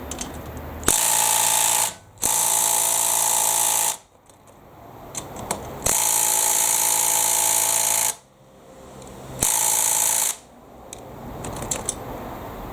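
A Makita impact driver hammers at a tightly done-up lug nut in loud, sustained bursts of rapid clattering, three long runs separated by short pauses, with no talk over it.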